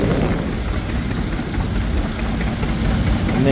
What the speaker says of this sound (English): here's this big old stationary D engine